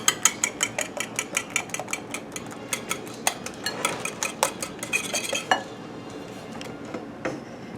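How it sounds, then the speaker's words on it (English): A whisk stirs beef, peas and seasonings in broth in a pot, making quick rhythmic metallic clinks and scrapes against the pan, close and clear with no speech. "stirring my broth and my beef and my peas and my seasonings"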